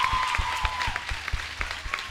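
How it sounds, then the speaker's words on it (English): Brief applause from a school assembly audience, a soft wash of clapping under a tonal hum, with scattered heavier low thumps. "let me ask you to give her a round of applause"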